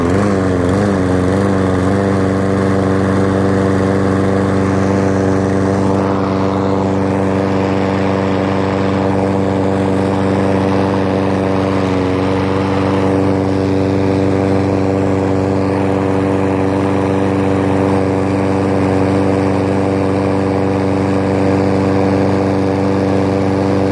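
A Snapper lawn mower engine, just cleaned at the carburetor, starts with no choke or primer. It surges briefly at first, then settles into a loud, steady running drone close by for over twenty seconds.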